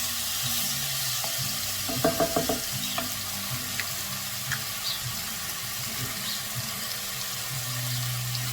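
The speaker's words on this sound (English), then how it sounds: "I'm going to give it a couple of stirs here to get it all together" Butternut squash soup with curry stirred in a pot, broadband cooking sizzle throughout with a short cluster of scraping, clinking strokes around the middle and a few lighter knocks after, no talking.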